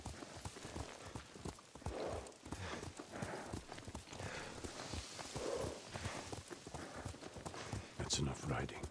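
Horse hooves clip-clopping in a steady gallop rhythm in Ghost of Tsushima, close and continuous, with voices talking over the hoofbeats.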